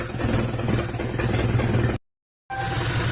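A Honda CR-V engine with an H2B swap, all-wheel drive and five-speed, idles steadily with a smooth, even rumble and faint rattling, broken by a brief half-second gap of silence.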